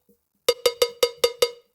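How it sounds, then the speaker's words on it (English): A classic Nexus cowbell sample is struck six times in a quick, even rhythm, each hit bright and metallic with a short ring, loud and alone, working as a pre-drop fill in an electronic dance track. "I've used Nexus for the cowbell. This is a classic cowbell everyone knows."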